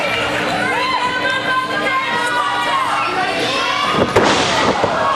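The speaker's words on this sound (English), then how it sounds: "a swanton bomb on the table didn't break" A wrestler's swanton bomb lands on a wooden table during a TLC tag team title match, a sharp thud near the end over a constant loud arena crowd roar with cheering and children shouting.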